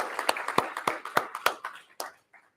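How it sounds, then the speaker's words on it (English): Several hands clap in a small lecture audience at a geology talk on the North Cascades, with about ten separate, fairly close claps that slow and fade to quiet. "give yourselves a round of applause"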